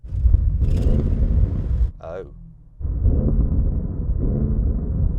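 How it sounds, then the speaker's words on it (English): An Audi RS6 V8 revved up against its soft limiter, giving deep loud rumbling bursts that break off briefly and then return at a steady held rev, with a short spoken exclamation in the gap. "It has a soft limiter, so it doesn't sound so great when you're just revving it."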